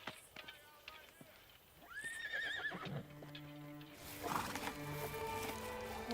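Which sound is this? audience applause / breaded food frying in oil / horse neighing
horse neighing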